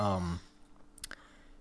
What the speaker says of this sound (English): the actual sound that it makes when it clicks is almost comparable to a Razer Chroma keyboard